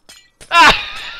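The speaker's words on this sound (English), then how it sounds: "I love smashing glass." Glass smashed in Minecraft, one sharp close shatter with a bright ringing crash that fades quickly into a short tinkling tail, preceded by a faint brief click.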